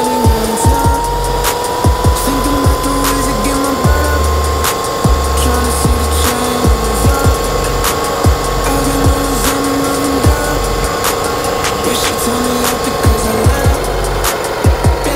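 A Surron X electric motorbike fitted with a TC500 controller rides along with a steady motor whine and continuous road and wind noise, punctuated by frequent low thumps and rattles from the ride.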